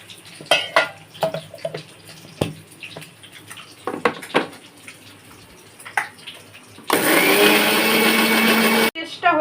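A mixer grinder whirs loudly for about two seconds, grinding coconut, mustard, poppy seed, green chilli and turmeric into paste. Before it comes clattering kitchen handling, and it cuts off abruptly.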